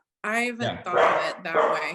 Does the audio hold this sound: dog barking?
yes